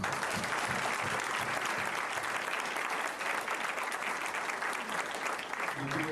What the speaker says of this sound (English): Please clap with me for her.